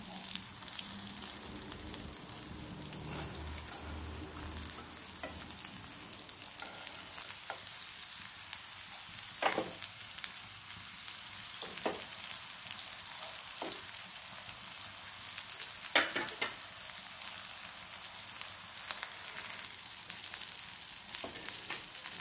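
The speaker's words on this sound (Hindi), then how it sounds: "ओपनूच धरून फ्राय केली की ती बरी कुरकुरीत जातात।" Goan-style prawn cutlets fry in a pan with a continuous close sizzle and crackle, dotted with occasional sharper pops, steady throughout and without any talking.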